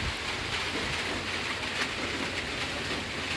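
Steady, dense hiss of morning rain falling outdoors, an even wash of noise with no breaks and no voices.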